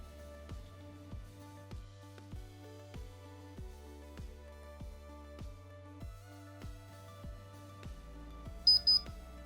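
An old MikroTik RouterBoard 450 beeper sounds after RouterOS loads, a string of about fourteen evenly spaced, clipped tones in a steady rhythm, closing with a short burst of higher beeps.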